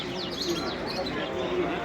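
Birds chirp and tweet with rising calls at an outdoor bird market in cold weather. The calls are faint and mixed into crowd murmur and nearby talk.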